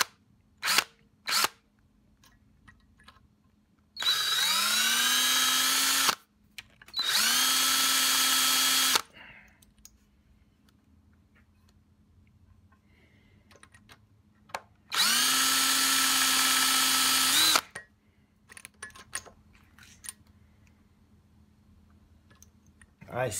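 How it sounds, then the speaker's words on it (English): A power drill with a hard drill bit works on a stripped Torx bolt in a carbon fibre bike tube, whirring loudly in three bursts of a few seconds each, each spinning up in pitch, with clicks and quiet handling noises between. "We're gonna be going in with this hard drill bit"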